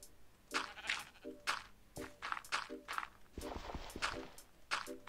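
Sheep in the video game Minecraft bleat repeatedly in short, quavering calls, spaced irregularly, mixed with soft footstep-like clicks, fairly quiet overall.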